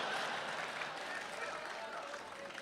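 Audience clapping at a Hindi poetry recital: a steady, dense wash of applause blended with crowd murmur, fairly faint and continuous throughout.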